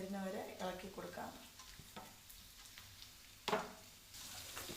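Onion, green chilli, garlic and curry leaves sizzle in hot oil, with a spoon scraping and stirring the pan in short strokes. A louder scrape comes near the end. The sound is fairly quiet and close.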